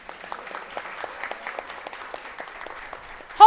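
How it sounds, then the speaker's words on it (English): Audience applause for a speaker at a Black Women's Agenda symposium, a steady wash of clapping sustained for several seconds before a louder burst at the end. "please give her a round of applause"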